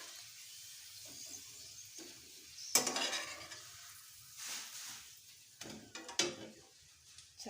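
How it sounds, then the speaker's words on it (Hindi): Chicken boti kebabs fry in a pan over a low to medium flame. Faint sizzling runs throughout, with louder bursts of frying and clinks of a utensil against the pan coming and going, and no voices. "चले हम अपने बाकी कबाब भी इसी तरह इसमें फ्राई कर लेते हैं।"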